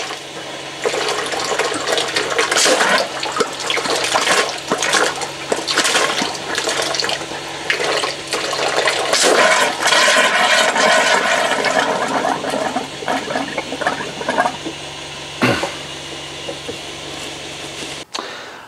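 Water rushes and gurgles as it drains steadily from a hot tap in a static caravan or holiday home, loud and close, fading toward the end.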